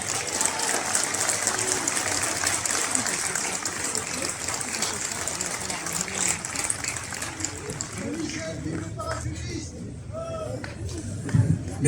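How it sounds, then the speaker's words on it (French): An audience claps in steady, dense applause for a speaker at a rally where military officers and generals take the floor. The clapping fills the whole stretch at an even loudness and briefly thins near the end, with voices mixed in. "vous pouvez l'applaudir."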